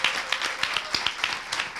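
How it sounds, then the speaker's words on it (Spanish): Applause from an audience at a public event, honoring civic organizations. Dense, steady clapping at moderate distance, fairly faint, with a few sharper individual claps standing out and no talk over it. "Un aplauso enorme para todas estas organizaciones"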